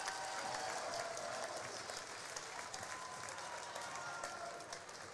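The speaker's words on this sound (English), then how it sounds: "The three seniors will get a round of applause as they come to the bench" Applause from a crowd at a Montana Tech women's college basketball home game against the University of Providence, steady and full throughout as three seniors head to the bench, with faint crowd noise mixed in.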